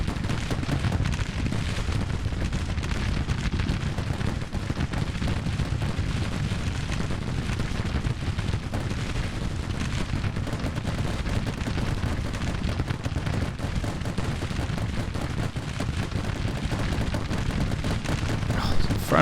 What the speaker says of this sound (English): Infernal guns.